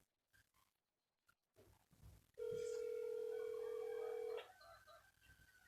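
One steady electronic ringback tone plays for about two seconds while a phone call waits to be answered, preceded by faint handling noises and followed by quiet room sound.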